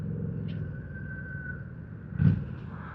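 Low, steady burble from a Kawasaki Drifter VN 800 motorcycle engine cruising along a high street, with a brief throaty swell near the end.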